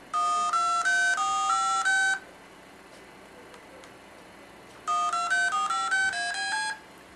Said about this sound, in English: freeware application turns your Pocket PC into a DTMF tone dialer